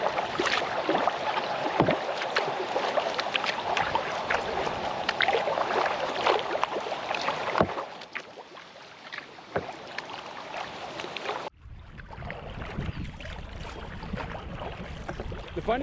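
Steady rushing water and wind noise with occasional splashes and knocks of a canoe paddle on a river, continuous throughout, dropping in level partway through.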